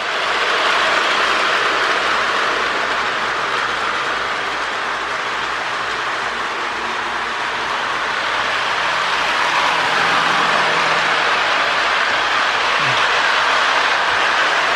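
A restored Lionel MPC GP9 model locomotive runs on toy track, giving a loud, continuous motor whir and rolling rumble with a faint rhythmic clicking from the rails, steady throughout with no talk.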